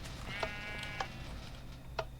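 Three short, clear sheep bleats from a Minecraft sheep in the video game, evenly spaced and fairly close, over a low steady game background with no talking.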